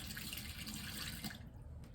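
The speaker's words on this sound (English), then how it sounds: "I'm pour some of it out because it's too much" Homemade coffee for a frappe being poured out, a steady continuous liquid stream close by that thins and stops near the end.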